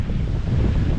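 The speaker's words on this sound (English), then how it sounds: "And I'm sorry about the wind." Heavy wind buffets a microphone, producing a continuous low rumbling roar with no other sounds audible.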